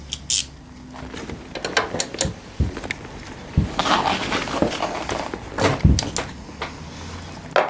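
The oil fill screw on a scooter is backed out a little, giving a string of small close clicks, ratcheting taps and metallic knocks of varying loudness with brief thuds.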